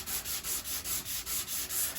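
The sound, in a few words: sanding body filler on a Jeep Patriot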